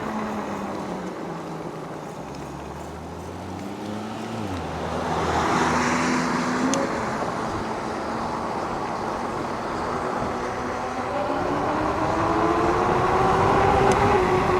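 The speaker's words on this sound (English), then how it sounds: "Oops, car behind me." On a road by a reservoir, a car approaches from behind and passes, its tire and engine noise swelling and then fading under steady wind rush from a moving 72-volt electric bike.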